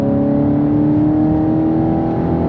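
An Audi R8 sports car engine, V8 or V10, holding a loud steady drone with a sustained tonal hum from inside the car, continuous and even throughout with no talk over it.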